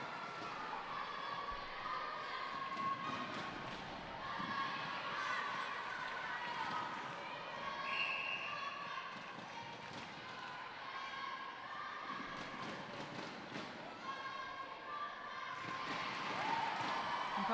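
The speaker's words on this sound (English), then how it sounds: "Probably hear the crowd here clearly behind the home side." A home crowd cheers and shouts at a Gibraltar v Malta under-17 netball match, rising and falling faintly around commentary that carries on throughout.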